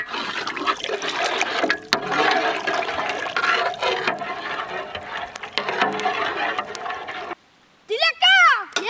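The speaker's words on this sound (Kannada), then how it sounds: "ಇವಾಗ ನೀರು ಹಾಕೊಬಿಡೋಣ." Water is poured into roasted masala in oil for a fish curry, a loud rushing splash lasting several seconds that stops abruptly, followed by a short burst of other sound.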